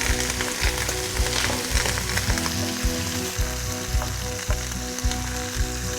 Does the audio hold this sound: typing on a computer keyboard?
no